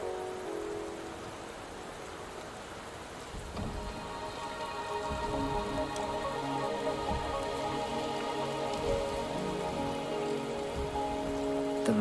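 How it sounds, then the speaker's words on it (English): Steady rain falls in the video game Wuthering Waves, a continuous even hiss of drops on surfaces lasting throughout, with faint low rumbles beneath and no voices. "The rain is subsiding, and the sky will soon clear."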